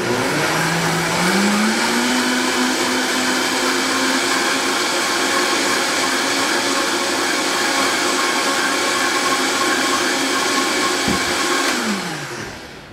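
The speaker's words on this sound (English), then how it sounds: "So I'm going to mix this up first, because you guys know I like to mix my spinach up first and get it nice." An electric blender whirs loud and steady while mixing spinach for a trim shake, its motor pitch rising once it gets going, holding for most of the run, then dropping as it shuts off.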